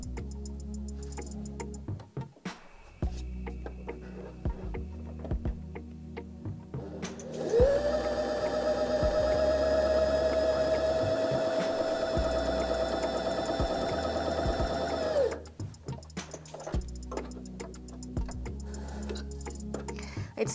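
A beginner sewing machine stitches through fabric in one continuous whirring run of about seven seconds, loud and close, framed before and after by quieter mechanical ticking and clicks.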